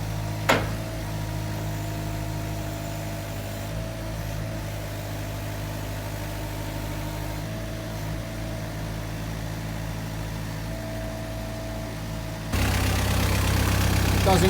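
A forklift engine idles steadily at a turf farm as it is loaded onto a small lorry, a constant low rumble with a mechanical hum, a sharp knock near the start and a louder, rougher surge toward the end.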